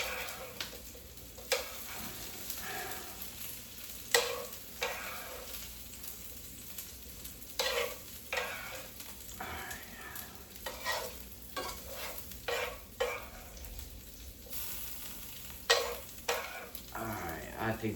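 Onions frying in an electric skillet, a continuous low sizzle broken by repeated scraping stir strokes every second or two, close and fairly quiet.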